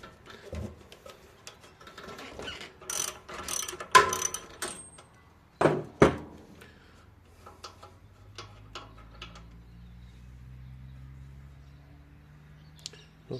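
A socket ratchet clicks in irregular bursts while loosening the spark plug on a discarded Scott Bonnar edger, close and crisp, then fades to a low faint hum.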